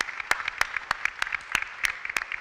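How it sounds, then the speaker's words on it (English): Audience at a Maryland District 18 candidates' forum giving a round of applause, a smattering of distinct hand claps at moderate distance, steady through the whole moment. "Let's give another round of applause for this group for their time and for their willingness to serve in"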